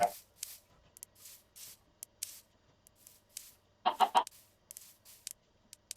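Minecraft chickens clucking in a series of short, scattered clucks, with a louder cluster of three near the end, heard close against near silence.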